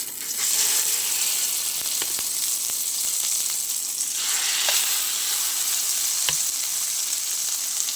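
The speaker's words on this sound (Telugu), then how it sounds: "దీన్ని ఇప్పుడు నేను మసాలా ఇక్కడ వేస్తున్నాను." Masala hits hot oil in a pan for a brinjal curry, giving a loud continuous hiss and crackle close by, with a few small scrapes and clinks of stirring over the steady sizzle.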